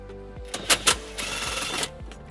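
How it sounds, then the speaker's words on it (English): A ratchet with a 10mm socket works a tow hook screw out of a 2015 Toyota RAV4, quick clicking bursts followed by a sustained buzzing rattle, close and alone. "we're going to remove this tow hook, which is held in by a screw, which we'll remove using a 10mm socket"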